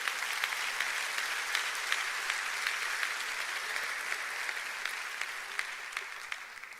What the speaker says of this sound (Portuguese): Se é para Jesus, você pode aplaudir.